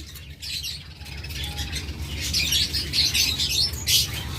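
A pair of pet opaline birds, one green and one olive, give bright chirps and squawks at close range over a low steady hum, the calls bunching more thickly in the second half.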